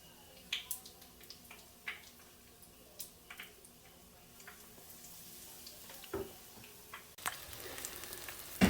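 Quiet sizzling of zucchini flowers frying in a pan, with scattered soft pops and clicks throughout and a slightly louder crackle near the end.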